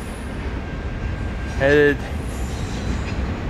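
Norfolk Southern freight train V07 passes with a continuous low rolling rumble, marked by a brief tonal horn-like blast midway, while someone talks over it.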